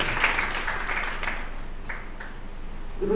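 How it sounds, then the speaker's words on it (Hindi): Applause from an audience at a Jain religious gathering, a steady mass of clapping that holds for a few seconds and then thins out, with faint voices underneath. "दिल्ली से पधारे निगम जी, उनके लिए जोरदार ताली बजाएं।"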